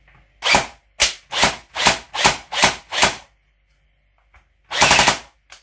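An Army Armament L85/R85A1 replica rifle with a rebuilt gearbox and working blowback fires six loud, evenly spaced single shots, then a short rapid burst after a brief pause, heard up close with no talking.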